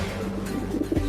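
Cartoon pigeons coo softly in a steady, low murmuring run, a couple of slightly louder swells near the end, with no talk over them.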